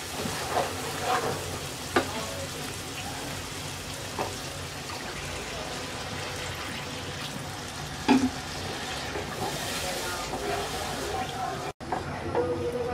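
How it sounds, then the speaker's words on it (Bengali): Water poured into frying spice paste in a pan for an eggplant curry brings a steady close sizzle and bubbling, with a few clinks, under intermittent talk. "এবার দিয়ে দিচ্ছি পরিমাণ মতো পানি।"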